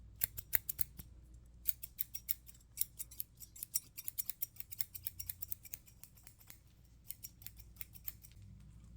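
Steel scissors snip in quick, crisp bursts of sharp cutting clicks, close and intimate, with short pauses between runs of rapid snips.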